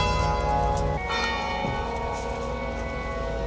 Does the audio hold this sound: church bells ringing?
yes